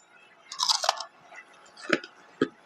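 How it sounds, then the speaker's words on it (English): Crisp crunching bites of bacon in an egg, pepper jack cheese and avocado dish, a few bursts of chewing with short pauses between, close up and with no talking. "You hear that crunch on that bacon?"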